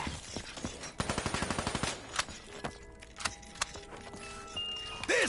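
Submachine gun fire in Call of Duty zombies on the Kino der Toten map: a rapid burst of repeated shots, followed by scattered single reports and electronic game tones, at moderate level.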